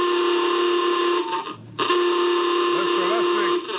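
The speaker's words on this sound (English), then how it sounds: "Masters, sound general quarters" A general quarters alarm aboard a spaceship in a 1955 radio drama: a loud, steady electronic buzzing tone with a brief dropout, then resuming as a voice speaks faintly beneath it.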